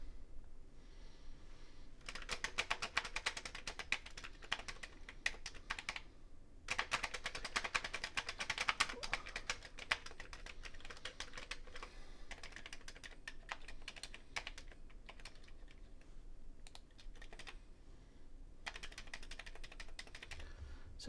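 Typing on a Commodore 64 keyboard with a faulty N key: steady, fast runs of clacky keystrokes with short pauses between bursts, close and fairly quiet, with no talking.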